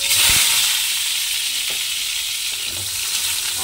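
Potatoes fry in a pan with a loud, steady hissing sizzle throughout, broken by a few light knocks and scrapes from stirring.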